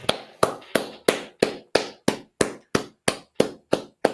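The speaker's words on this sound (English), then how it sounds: "Clap it up." Unison clapping from a group at an evening law class gathering, about a dozen sharp, evenly spaced claps in a steady rhythm, close and crisp, with silence between beats and no talk.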